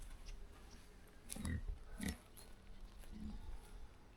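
Pigs grunting on an autumn homestead, a few short low grunts in bursts around the middle, moderately close, over a steady outdoor background.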